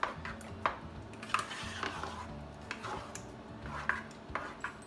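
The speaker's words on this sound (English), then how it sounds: "You should stir until you feel like you've dispersed all of the spices through the sauce" A spoon stirs spices and tomato paste into crushed tomato sauce in a pot, giving soft scraping and occasional clinks against the metal with no talk.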